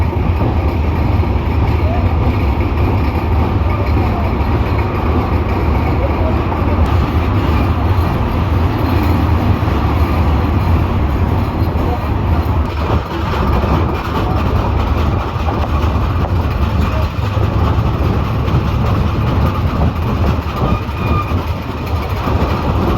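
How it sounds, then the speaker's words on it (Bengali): The Chilahati Express runs steadily at speed, a loud continuous rumble and rattle of carriages with faint rhythmic clatter, heard from inside the train without pause. "তো আজকের এই যাত্রা করছি আমি চিলাহাটি এক্সপ্রেস ট্রেনে।"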